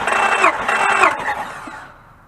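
A car engine cranks during a cylinder compression test, a short burst of whirring starter turnover that fades out after about two seconds, heard alone without talk.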